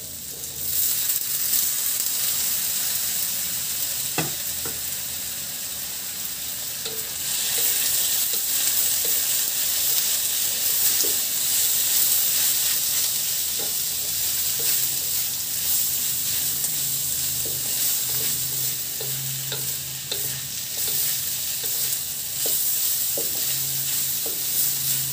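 Meat sizzles and fries in a pan for sambal goreng, a continuous bright hiss punctuated by scattered clinks and scrapes of stirring, close and steady with no talking.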